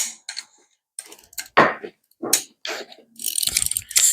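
A ratchet wrench on Torx bolts during the teardown of a Mercedes E55 engine, giving short bursts of clicking with pauses between them, close and with no talk.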